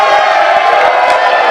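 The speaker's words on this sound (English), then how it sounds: "they're giving him some residual cheers" A wrestling crowd at a taped live independent show gives loud, sustained cheers and whoops for a wrestler, a steady dense roar filling the whole moment with scattered shouts on top.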